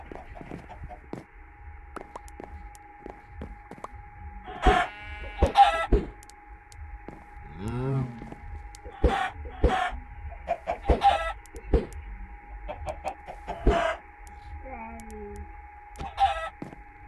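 Minecraft chickens cluck in short repeated bursts over a steady background hum, with several distinct clucks spread across the clip.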